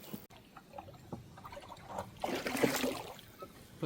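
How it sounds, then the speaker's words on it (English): Water splashes and pours into a bucket beside a fishing spot, a steady gushing rush that swells in the middle and carries on to the end with small sloshing bursts. "Put some water in the bucket."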